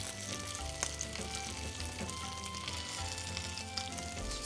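Veggie patties frying in a pan, a steady close sizzle with small crackles and pops throughout and no one speaking.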